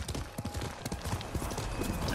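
Horse hooves clip-clop in the video game Ghost of Tsushima, a quick steady rhythm of soft thuds at moderate distance, faint under a light background of game ambience.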